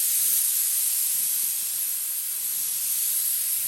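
Steady hiss of an aerosol spray can laying a light coat of silver paint onto a model car body, continuous and close, with no voices over it.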